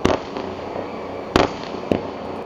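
Synthetic fireworks effect with a dense crackling fizz throughout and two sharp, loud bangs near the middle and end, with no voices.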